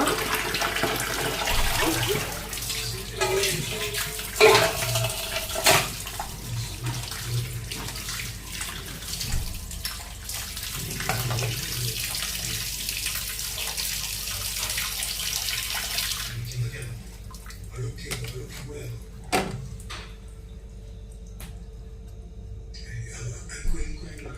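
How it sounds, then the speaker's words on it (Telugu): Water runs from a tap with splashing and clinking as raw chicken is rinsed, the flow steady for most of the time before tapering off near the end. "చికెన్ ఇలా కడిగేసుకున్న తర్వాత ఇలాగా వాటర్ అంతా ఇట్లాగా బయటికి పోయేలాగా"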